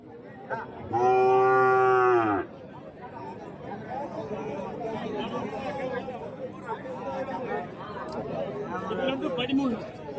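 A calf gives a long, loud moo at the Kundarapalli Friday cattle market in Krishnagiri, where HF and Jersey calves are sold, followed by steady crowd chatter and people talking.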